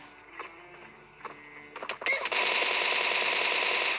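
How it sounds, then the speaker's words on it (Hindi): Automatic gunfire in PUBG, fired in a pre-fire at an enemy: a few scattered shots, then a dense, loud, sustained burst of rapid rounds that continues to the end. "full on pre fire and jump मार के मैंने इस बंदे को मार तो दिया"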